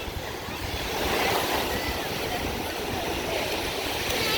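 Ocean surf rolls in at a beach in Destin, Florida, producing a steady, broad wash of breaking waves with some wind.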